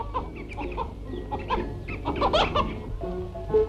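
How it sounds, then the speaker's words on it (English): Chickens clucking in the poultry yard of an ashram, a busy overlapping flock of clucks and short calls close by, with no speech. "a favorite with the young is poultry keeping"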